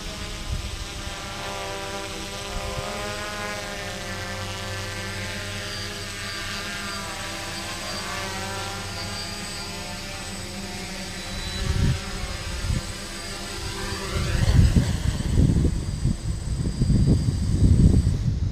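X-Quad quadcopter drone coming down in fail-safe mode, a steady multi-tone whine of its motors held close and loud, with lower rumbling bursts building toward the end as it nears the ground.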